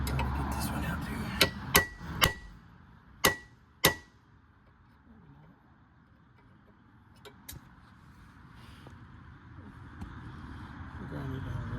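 Sharp metallic hammer blows ring out while a factory ball joint is knocked out of a Volvo S40, five loud close strikes early, then quieter scattered taps over a low background hum.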